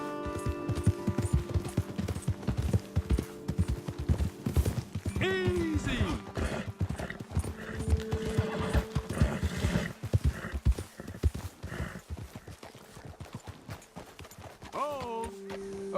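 Horses in Red Dead Redemption 2 gallop with rapid clip-clopping hooves, and a couple of sharp whinnies ring out, with voices talking over the riding.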